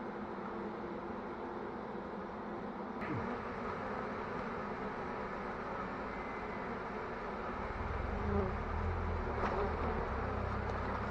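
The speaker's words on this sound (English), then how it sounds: "quite a few bees have moved into the box now through the entrance hole" Dense, steady buzzing of a swarm of bees crowding a box's entrance hole close by, a continuous drone with slight swells and no talking.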